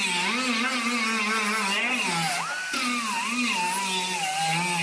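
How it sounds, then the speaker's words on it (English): Angle grinder working along the folded edge of an aluminum door skin, a loud, continuous high whine that wavers in pitch as the tool presses into the metal, with no voices over it. "you grind the edge of it where it's folded across"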